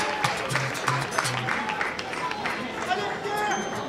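Spectators at the finish of a 10 km road race in Montreuil-Juigné applaud an arriving runner, a steady patter of clapping from a crowd under a loud announcer's voice.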